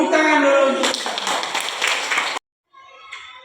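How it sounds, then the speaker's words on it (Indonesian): Classmates applaud together after finishing a school cooking project of fried bananas, a dense burst of clapping mixed with children's voices that stops abruptly, then fainter chatter follows. "Tepuk tangan dulu"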